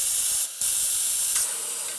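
Air hisses steadily from the tire valve of a 1972 Harley-Davidson XL Ironhead bobber during a rear tire change, a close, broadband spray that dips briefly and resumes, then continues slightly softer.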